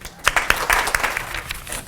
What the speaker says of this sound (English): If you'll please give a warm round of applause for Dean Fred Roper.